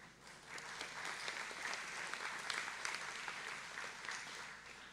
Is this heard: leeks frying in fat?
no